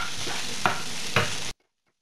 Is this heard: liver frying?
yes